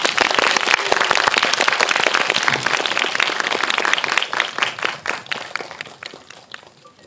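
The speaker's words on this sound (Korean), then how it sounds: "큰 박수로 환영해 주세요." A cinema audience at a film anniversary screening in Seoul claps loudly to welcome an actress, a dense burst of hand claps thinning into scattered individual claps toward the end.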